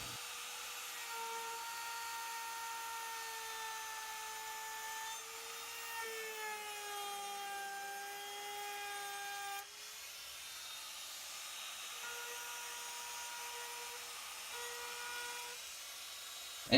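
A router cuts a round-over profile along the edge of a wooden pot coaster, giving a steady high whine with a continuous tonal drone that shifts in pitch partway through, with no talking.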